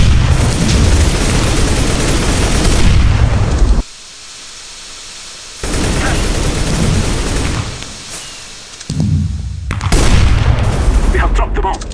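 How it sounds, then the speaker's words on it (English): Grenade and molotov blasts in the Minecraft Minestrike game mode, loud booming bursts with crackling fire noise filling most of the stretch, broken by two short quiet gaps before the roar returns. "Throwing grenade!"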